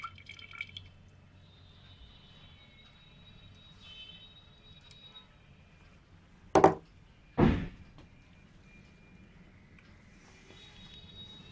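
Water dripping from sodium bentonite sludge into a collecting vessel: two distinct close drips a second apart amid a quiet room hiss, with faint background sounds before them.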